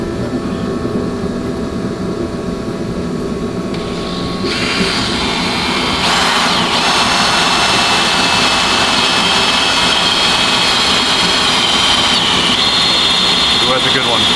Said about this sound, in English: When you are drilling metal, it should be peeling the metal out of the hole